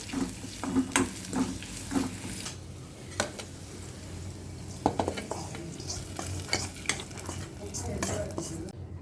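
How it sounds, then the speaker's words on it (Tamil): A spoon stirs asafoetida tempering in a metal pan for a banana-stem kootu, with repeated scraping clinks and knocks over a soft continuous sizzle and no speech. "இதில் கொஞ்சம் நம்ம பெருங்காயத்தூள் போட்டுக்கலாங்க. போட்டு இது நல்லா கலந்து விட்டுட்டு"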